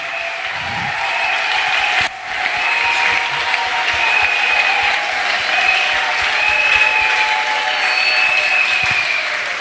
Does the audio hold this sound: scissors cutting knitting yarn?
no